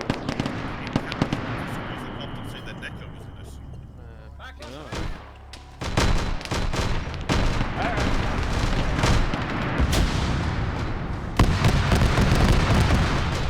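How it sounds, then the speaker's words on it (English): Autocannon fire in a multiplayer military shooter, heard as dense rapid bursts of heavy gunfire and explosions, loud and continuous with brief gaps, mixed with other battle noise and some talk. "that's that autocannon engaging"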